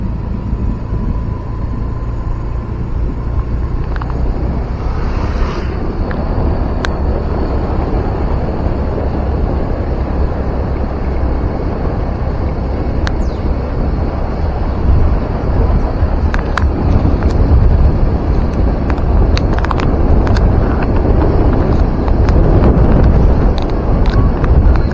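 Fast, murky floodwater rushes at Anai dam in a continuous loud roar, with wind buffeting the microphone and a few faint knocks over the torrent.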